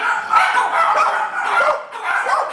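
Pit bulls and pit bull mixes at an animal shelter let out a quick run of close, overlapping barks and yips, several dogs going at once without a break.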